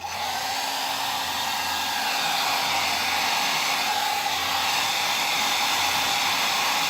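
A hair dryer blows steadily at close range over freshly varnished wooden benches, a continuous loud whooshing hiss with a low motor hum that holds without pause.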